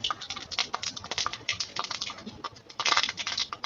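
Ivy gourd (kovaikai) pieces frying in hot oil in a pan with mustard seeds, urad dal, garlic and curry leaves, giving a dense, steady crackle of close sputtering pops that swell louder near the end, with no talking.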